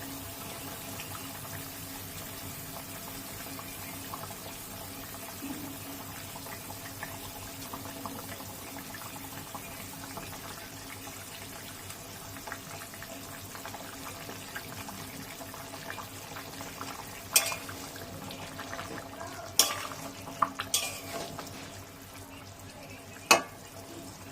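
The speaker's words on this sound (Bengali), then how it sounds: "আমার কিন্তু মাছের ঝোল ফুটে উঠেছে এখন আমি এক এক করে মাছগুলো দিয়ে দেবো" Hilsa fish go one by one into a boiling thin curry with ridge gourd and potato, giving a steady sizzling, bubbling bed with a few sharp splashes and clinks toward the end.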